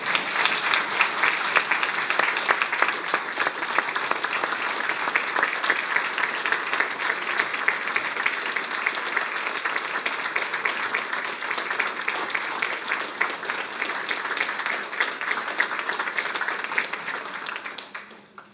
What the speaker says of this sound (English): please join me in giving them a round of applause for all of their accomplishments